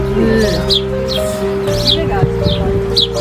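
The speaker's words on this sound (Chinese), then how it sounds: "哇，满满的鸽子。" Short, high chirps from a large flock of pigeons in Pigeon Valley, Cappadocia, Turkey, repeat every half second or so over a steady low hum, with voices murmuring in the background.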